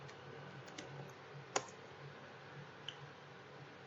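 Sparse, soft clicks from a computer keyboard tapping out a command at a quiet desk, with a few isolated keystrokes and one sharper click mid-way over faint room hiss.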